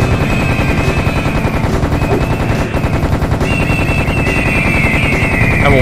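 Rapid, continuous automatic gunfire from the video game Serious Sam: The First Encounter, dense and loud throughout with steady rattling bursts and no pauses, layered with game sound effects.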